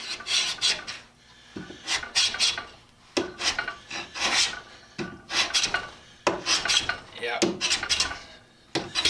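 A Stanley No. 81 scraper plane, unsharpened, rasps across wood in repeated short strokes, each pass a gritty scraping burst with brief pauses between, close and fairly loud, with a brief spoken word.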